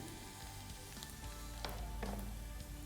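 Onions cooking for soup sizzle softly and steadily in a pot, a faint continuous crackle with a few small pops and light stirring.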